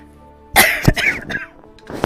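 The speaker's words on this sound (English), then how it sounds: "I can feel the cough starting again." A person coughs close to the microphone in a quick harsh burst of a few hacks, followed by a throat-clearing catch near the end.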